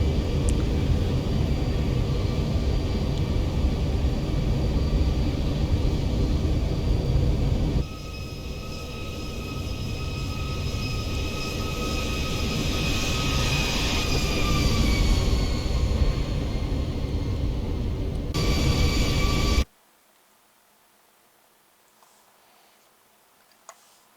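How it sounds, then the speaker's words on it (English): An airliner lands in the X-Plane flight simulator, heard as a steady, loud engine roar with whining tones that swell and shift. The roar stops abruptly and leaves near silence with one faint click. "So now we can just pretty much go out of the plane and watch the landing."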